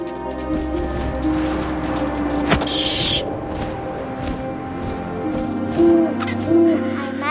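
In the video game What Remains of Edith Finch, an owl's hooting plays over a steady ambient game soundscape of wind and low tones, with a few soft hoots sounding through it.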